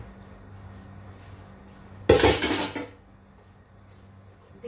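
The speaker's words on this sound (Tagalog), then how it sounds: "itong kaldero na nilagaan ko ng rice, lagyan ko ng kunting mantika" A cooking pot that was used to boil rice is handled while a little cooking oil goes in, giving a close, short metallic clatter lasting under a second against a quiet kitchen background.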